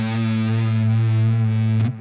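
Electric guitar note bent and held with slow vibrato, gently rocked back and forth under heavy distortion, sustained and loud, ending with a brief pick scrape and cutoff.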